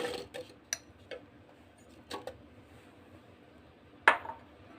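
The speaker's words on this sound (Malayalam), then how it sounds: "മിക്സിയുടെ ജാറിലേക്ക് ആപ്പിൾ ഇട്ട് കൊടുക്കുന്നുണ്ട്" Apple pieces drop into a mixer grinder jar, making a series of light, sharp taps and clinks at irregular intervals, with one louder knock near the end in a quiet kitchen.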